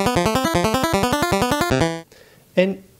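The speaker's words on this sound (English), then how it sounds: "an arpeggiator is a way that the synth is able to play extra notes." A synth arpeggiator sequence on the Polyend Tracker runs rapid, evenly spaced stepping notes with bright harmonic tones for about two seconds, then stops; after a short pause a single isolated note sounds.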